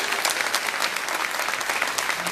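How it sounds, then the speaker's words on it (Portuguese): A church congregation at a family lecture claps in a dense, steady burst of applause, close and full throughout with no voices over it. "Você pode aplaudir o Senhor por essa palavra?"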